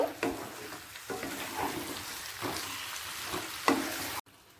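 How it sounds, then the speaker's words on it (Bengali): Chicken and onions sizzle in a pan while a spoon stirs them, producing steady frying hiss with regular scraping strokes roughly every second; close and fairly loud, with no talking, ending abruptly. "এরপর পেঁয়াজের সাথে ভালো করে মিশিয়ে নেব"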